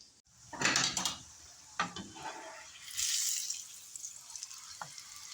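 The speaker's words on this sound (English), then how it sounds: "So I'm going to start frying them in the oil." Food frying in olive oil in a hot skillet, starting with a hiss and sputter and settling into a steady sizzle, punctuated by clinks and scrapes of a utensil against the pan, close by with no talking.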